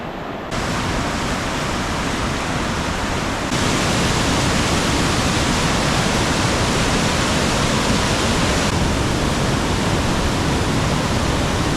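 A strong creek rushes at the Big Pine Creek trailhead, a loud, dense, unbroken roar of churning water that fills the whole span and swells slightly partway through.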